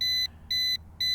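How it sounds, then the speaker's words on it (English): Drone control app beeping as the camera tilts on an Attop W80 4K GPS drone, three steady high electronic tones, each about a quarter second, evenly spaced with short gaps. "it beeps when we tilt it"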